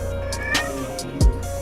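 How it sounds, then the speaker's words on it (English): A house cat meows a few times, short nasal calls up close in an indoor room, with no talk over them. "This is Bogue's house cat"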